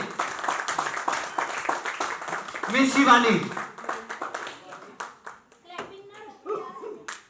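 A crowd claps and applauds at an office New Year and birthday party, a burst of close, mixed hand claps while a host speaks over it into a microphone.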